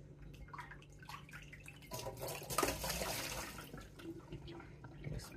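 Water is poured into a bowl of instant noodles, a quiet splashing trickle that swells briefly mid-clip and then settles, with no talk.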